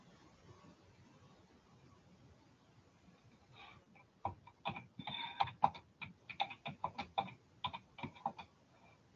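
Quiet room tone, then a run of rapid clicking keystrokes on a computer keyboard, faint and close, in irregular bursts.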